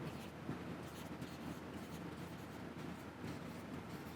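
Pen scratches steadily across paper during a math lesson, a continuous soft scraping rhythm close by, faint and low under room noise.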